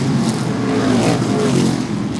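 True Value Modified race cars at Seekonk Speedway, a loud continuous roar of several engines at full throttle, close and dense, with no letup.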